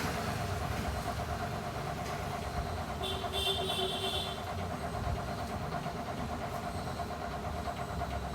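A sewing machine runs steadily while top-stitching a blouse, its close, continuous motor hum and rapid needle chatter unbroken throughout, with no talking.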